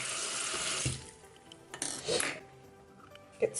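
Tap water running into a bathroom sink to wet a makeup brush, a bright gushing stream that cuts off after about a second, followed by brief splashes and small clinks, close and alone.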